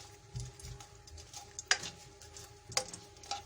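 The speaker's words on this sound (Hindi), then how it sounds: "इसमें ये साबुत मिर्चें मैं फ्राई करूंगी।" Whole chillies frying in hot oil in a kadhai, a faint low sizzle with occasional sharp pops and spoon clinks against the pan.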